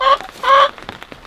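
A backyard chicken clucks loudly and close, two bright squawking calls followed by a few softer short clucks.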